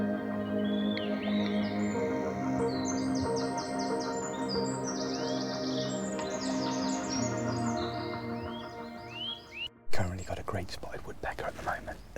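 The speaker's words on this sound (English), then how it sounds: "birds just above me in one of the trees" Birds calling from the branches directly overhead in a woodland, a steady chorus of varied chirps and whistles close by through most of the stretch, ending with rustling and handling noise.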